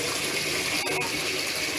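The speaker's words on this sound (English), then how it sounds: "Look at the pressure of the water as it is running into the toilet bucket" Pressurised water from a Grundfos regenerative booster pump gushes steadily into a toilet bucket, a dense continuous hiss and splash heard close with a brief clunk in the middle.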